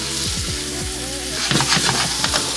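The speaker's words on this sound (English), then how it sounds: "I'll just saute that for a couple minutes, maybe like 5 minutes at medium heat" Mushrooms sautéing in a pan over medium heat give a steady, close sizzle with a brief burst of stirring scrapes partway through.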